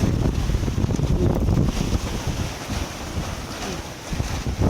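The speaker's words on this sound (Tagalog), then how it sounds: "Sobrang lakas ng hangin." Strong wind buffets the microphone with a continuous roaring rumble and gusty surges at a rainy night campsite, close and loud throughout, with no voices.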